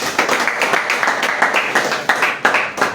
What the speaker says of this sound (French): On doit applaudir très très fort pour cette grande dame.